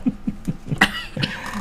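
A person gives a quick series of short, close coughs, several light rhythmic hacks followed by a couple of harsher throaty bursts, all within under two seconds and with no speech.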